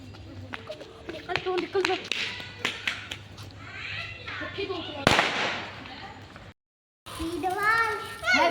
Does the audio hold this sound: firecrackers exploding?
yes